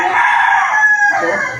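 A rooster crows loud and close in one long, drawn-out call. No one talks over it.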